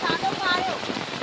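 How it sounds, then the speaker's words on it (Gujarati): Heavy downpour drumming steadily on surfaces across a farm area after a long dry spell, a dense continuous hiss throughout, with indistinct voices underneath. "એ ફૂલ વરસાદ ચાલુ થઈ ગયો છે."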